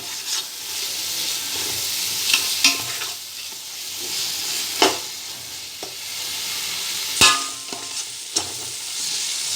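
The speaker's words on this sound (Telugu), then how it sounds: "ఈ మసాలా ముద్ద బాగా వేగేంత వరకు వేయించుకోవాలి." Ground masala paste for chicken biryani fries and sizzles steadily in a pan, with a continuous hiss broken by a few sharp stirring clicks and scrapes, close and fairly loud, with no talking.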